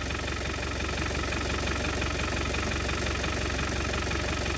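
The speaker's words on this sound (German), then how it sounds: "Ich lasse den Motor mal in Ruhe." An old classic car engine idles steadily, a continuous low rumble with a fine knocking pulse that stays even and close throughout, with no voices.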